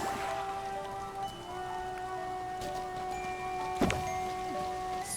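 Steady rain in the video game Infinity Nikki, set in a forest area, patters continuously at a soft, even level, with a faint tonal music drone and one brief knock near the end.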